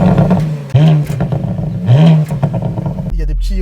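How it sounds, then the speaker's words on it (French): A 462-horsepower Porsche Panamera engine revs with its exhaust valves open, loud and close, in a few rising throttle blips that sit over a steady idle rumble, with some voices underneath. "Et là, on va ouvrir l'échappement."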